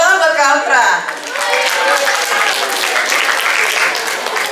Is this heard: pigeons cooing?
no